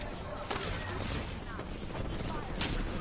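Gunfire in a video game, a dense spread of shots and sharp cracks over continuous noisy action, with a few louder bursts standing out and voices underneath.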